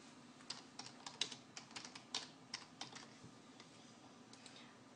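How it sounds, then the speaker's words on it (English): Someone types on a computer keyboard in a quiet room, with about a dozen uneven, faint clicks that taper off toward the end. "Click Add and key in the shift name."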